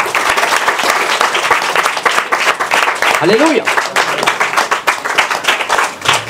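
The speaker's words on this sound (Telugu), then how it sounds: "so give claps to Jesus Christ" A church congregation at a Sunday service claps for Jesus Christ, a dense, steady burst of applause throughout, with a voice calling out over it.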